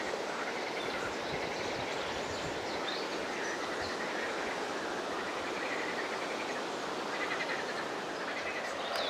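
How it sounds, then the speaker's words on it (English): Frogs croak as a dense, steady chorus at a French countryside garden in summer, a continuous textured chatter mixed with insect-like buzzing, filling the whole stretch with no voices. "You can hear the frogs in the background."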